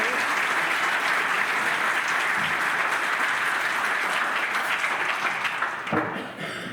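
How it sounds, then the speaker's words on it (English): A community audience gives a hearty round of applause after a speaker's introduction at a public event about a data center, dense clapping holding steady before thinning and tapering off near the end. "So let us give a big round of applause to Dr."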